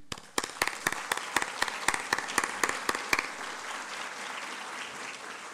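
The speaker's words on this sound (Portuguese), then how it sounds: "Vamos aplaudir?" A few loud, evenly spaced close claps open the applause, then a wider audience joins in with softer, dense clapping that carries on steadily.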